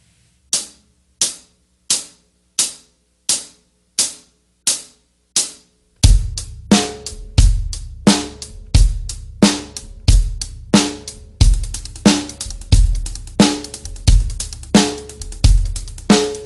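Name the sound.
rhythm played as quarter notes, eighth notes, then 16th note triplets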